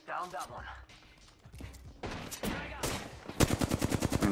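Rapid bursts of gunfire from another squad in the video game Apex Legends crackle and rattle in loud clusters, with automatic fire intensifying toward the end while players talk over it.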